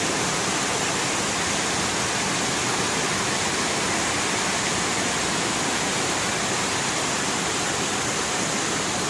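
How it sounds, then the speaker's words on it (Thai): Tat Kuang Si waterfall near Luang Prabang, Laos, roars at its middle tier, a dense, unbroken rush of falling water at steady loudness with no voices. "นี่คือบรรยากาศของน้ำตก น่าจะเป็นชั้นกลาง ๆของน้ำตกกาง กวางสีนะครับ"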